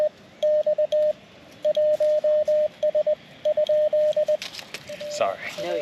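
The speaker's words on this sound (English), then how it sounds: "Are you doing Morse code?" Steady Morse code tones from a portable ham radio at an outdoor park activation on a summer evening, keyed in crisp, even dits and dahs for about four seconds. The keying stops and a few faint, brief sounds follow.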